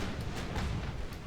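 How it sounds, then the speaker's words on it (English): A muffled, rumbling boom of torpedoes being fired in a naval strategy game during a Scandinavia campaign, a brief dull burst under steady low noise. "Oh, firing our own torpedoes back."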